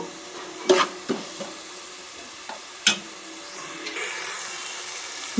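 Masala being stirred and cooked in oil for a fish curry, a soft background sizzle broken by a few sharp scrapes and clinks of the spoon against the pan, with a brighter frying hiss rising near the end.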